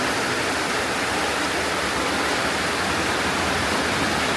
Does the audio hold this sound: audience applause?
no